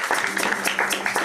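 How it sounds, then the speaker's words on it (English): An audience applauds Ken Spooner at a live Nashville radio show, with short, brisk clapping that sounds fairly close and carries on without a break for just over a second. "Let's clap for Ken Spooner"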